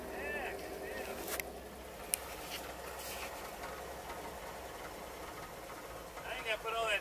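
A 1957 Chevrolet Two Ten engine runs at a low, steady idle in neutral, a continuous rumble beneath speech-like voices and scattered clatter, rising slightly toward the end.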